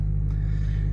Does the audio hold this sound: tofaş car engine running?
yes